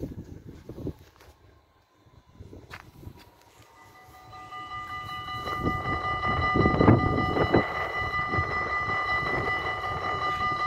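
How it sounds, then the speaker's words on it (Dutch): A blue train passes at Grijpskerk station, approaching from quiet into a steady, rising rumble and a high sustained tone as the cars roll by nearby, with a brief horn-like pitch near the start. "Oh ja, het is de blauwe trein."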